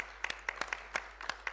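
Sparse, scattered handclaps from a small audience at a regional government review meeting, a few quiet claps spread over a second and a half rather than full applause.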